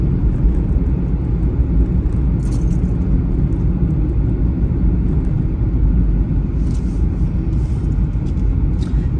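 A car drives along a quiet country lane, its steady low engine and road rumble continuous and close throughout, with a few faint rattles and clicks from inside the cabin.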